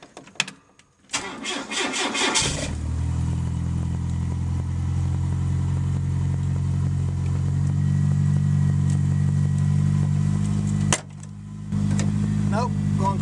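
A GO-4 vehicle engine cranks briefly and catches, then settles into a loud, steady, close-up running drone that briefly cuts out and resumes near the end.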